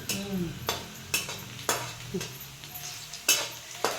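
Dried sandge frying in a hot pan, a constant sizzle punctuated by regular scraping strokes of a spatula stirring the pieces, close and clear with no talk.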